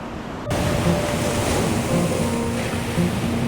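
Ocean waves and surf heard from a boat out at sea, a steady loud wash of water with wind noise after a brief quieter start, no voices present.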